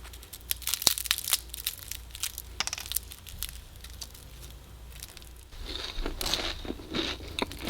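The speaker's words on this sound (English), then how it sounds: "So this one has an okay crunch to it." A fried egg roll in a thin wrapper being bitten and chewed up close makes repeated sharp, dry crunches and crackles in irregular bursts, with a louder crisp flurry near the end and no talking.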